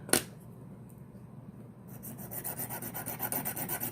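A coarse diamond stone files a metal part for a disc detainer lock tool, starting with a sharp tap, then quiet pauses, then rapid rhythmic back-and-forth rasping strokes close by.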